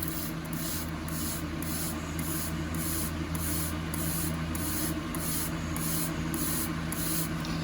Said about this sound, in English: We'll spray a little water on that one.